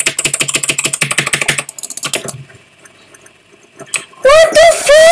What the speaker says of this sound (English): Look, I'm moving my keyboard.